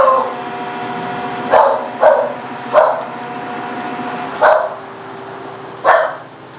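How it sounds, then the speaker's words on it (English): Dog named Corey barks at a neighbor walking up the driveway, five or six distinct barks spaced out over a steady background hum, fairly close. "Corey's barking at my neighbor going up the driveway."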